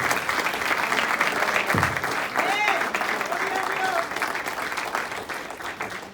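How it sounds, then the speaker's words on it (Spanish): A church congregation applauds strongly in a steady, dense wash of clapping, with brief shouts and a voice rising over it before the noise tapers off. "Fuerte la ofrenda de aplauso para Amén"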